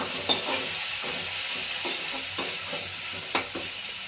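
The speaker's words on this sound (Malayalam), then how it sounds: "ചിക്കൻ അതിട്ട് കൊടുക്കാം" Chicken frying in a hot pan for dragon chicken, with a steady close sizzle and a few scraping clacks of a spoon stirring the pieces at an irregular rhythm, no speech.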